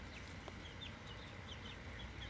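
Chickens cluck and chirp softly at moderate distance in an afternoon farmyard, a steady overlapping chatter over constant outdoor background noise.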